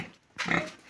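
Pigs grunting on a pig farm with piglets, a single short, fairly close burst of snorting grunts after a brief quiet start, with no voices.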